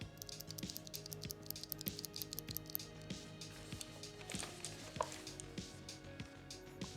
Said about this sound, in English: Couldn't find any information about the switch, but here's the sound of it.